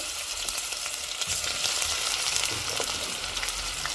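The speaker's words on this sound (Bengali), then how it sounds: "তেল গরম হয়ে গেছে এখন পেঁয়াজ কুচিগুলো দিয়ে দিলাম" Chopped onions frying in hot vegetable oil in a cooking pot, a dense, constant close crackling sizzle with no voices.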